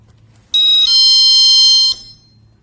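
A GE personal security window and door alarm, switched to alarm mode, blasts a loud, steady high-pitched electronic siren tone for about one and a half seconds, then cuts off abruptly.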